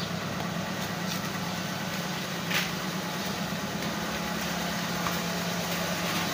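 A car engine idling steadily just after starting, following a repaired engine computer box, a close, even low rumble running without pause and with no talk.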